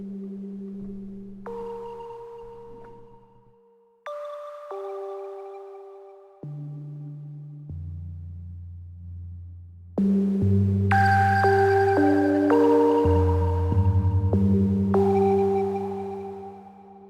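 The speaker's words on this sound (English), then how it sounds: "Oh, this one, ripple tones." A 'ripple tones' synthesizer preset on the Blue-II: sustained layered tones that step through shifting pitches and fade. The last section grows louder and brighter with many overlapping partials, and no voice is heard.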